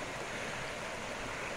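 Running creek water beside the Hays Creek railroad branch of the Lehigh Valley railroads, Luzerne County: a steady, faint, broadband rushing and babbling with no breaks, heard alone.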